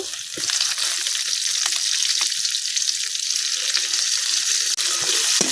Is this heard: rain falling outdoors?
no